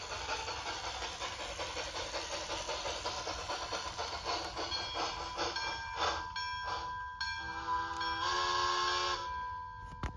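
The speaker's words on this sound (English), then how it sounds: "it also just does the whistle automatically" A Bachmann Pennsylvania Railroad K4 model steam locomotive sounds its automatic whistle, with steady chuffing and hiss underneath and a few sustained whistle tones toward the end, fairly quiet and close.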